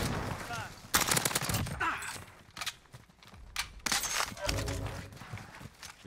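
Sniper gunfire in the video game Warzone: several sharp, loud shots in separate bursts, with game noise and voices talking between them.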